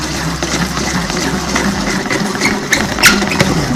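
A plastic salad spinner whirling endive and kale, giving a continuous rushing, whirring drone with a low rumble and occasional sharper rattles and clicks as the basket spins.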